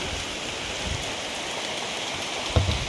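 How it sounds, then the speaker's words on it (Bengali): Heavy rain pours steadily during a cyclone, a dense even hiss of drops on surfaces with a faint thump near the end. "কত বৃষ্টি হইতেছে।"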